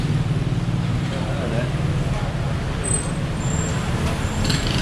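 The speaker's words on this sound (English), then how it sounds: "as you can see, so much traffic here" Busy daytime street traffic on a Bangkok soi in Thailand, a continuous dense rumble of cars, buses and engines that is close and steady, with brief high brake squeals.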